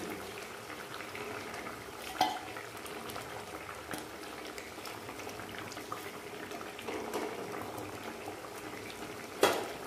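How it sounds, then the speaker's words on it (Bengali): Fish curry made with mustard and poppy seed paste simmering in a pot, a steady bubbling boil with a couple of brief louder clinks, continuous and close. "1 মিনিট মতো ঝোলটাকে ফুটালাম, খুব বেশি ফুটাইনি"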